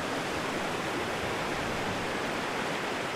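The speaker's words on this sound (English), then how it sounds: "I don't know if the sound of the river allows you to hear the birds, but birds singing." A river rushes steadily, with a broad, even wash of flowing water that fills the whole clip at close range. No birdsong stands out above it, and no one talks.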